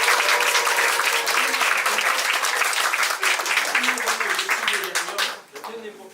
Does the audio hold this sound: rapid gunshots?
no